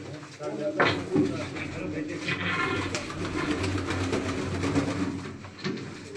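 Pigeon cooing, low soft throaty coos repeating close by, mixed with someone talking over them and a few light handling knocks.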